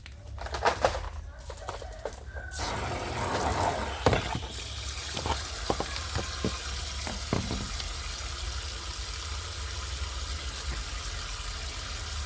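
Water poured into a container to fill it for watering Aglaonema houseplants, a steady splashing flow running continuously after a brief start, heard close with faint outdoor background sounds.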